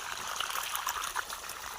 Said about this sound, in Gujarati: અત્યારે પાણી આપણે ચાલુ છે।